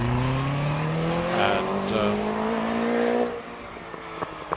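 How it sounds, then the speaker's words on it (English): Formula 4 SF83 single-seater race car from 1983 fitted with a Peugeot 1600 engine, its engine note climbing in pitch as it accelerates past, then fading away to quiet, with a brief word of commentary. "Formula 4 2000 car, SF83, but with a Peugeot 1600 engine"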